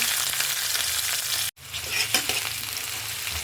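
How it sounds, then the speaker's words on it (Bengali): Onions fry in a pan for a fish and aubergine curry, a dense loud sizzle broken by one brief cut, then stirring scrapes over the hissing oil. "এখন আমি পেঁয়াজটা ভেজে নেব।"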